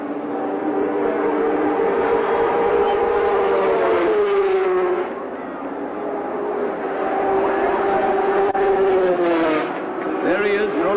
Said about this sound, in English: racing down the track, only to go down the gearbox to slow down to a very low speed to take the U-bend